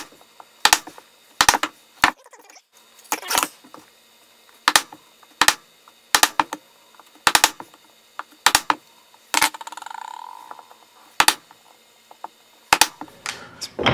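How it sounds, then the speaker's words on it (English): Chisel chopping out waste between dovetail tails on a drawer part, a series of sharp, loud mallet-driven knocks at irregular intervals, close up, with brief quieter scraping between some strikes and no talk. "So now we're going to go ahead and chisel out the waist."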